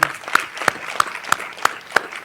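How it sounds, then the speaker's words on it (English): Audience clapping at a school district board meeting honoring an award recipient, heard as a sparse, evenly spaced series of sharp claps, close and distinct, with light crowd noise in between. "Let's clap our hands for her."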